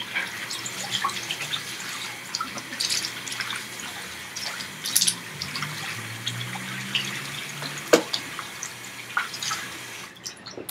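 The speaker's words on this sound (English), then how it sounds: "First, get your face wet." Tap water running steadily into a bathroom sink while a face is wetted, a continuous soft splashing with small drips and brief spatters, fairly close and alone.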